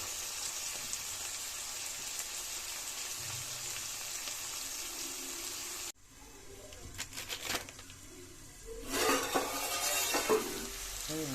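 Capsicum and carrot sauté in a pan with a steady sizzle, then after a cut the frying turns patchier with stirring scrapes and clatters before a louder burst of sizzling near the end.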